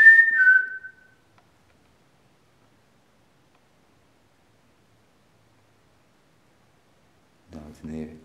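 A person gives a short, clear whistle, rising then holding, lasting about a second; after a long silence someone briefly speaks.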